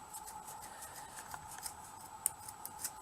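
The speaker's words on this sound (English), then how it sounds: "but I'm going to cut it." Scissors snip through folded fabric in a quick series of quiet, crisp cuts, close and faint, with a few sharper snips toward the end.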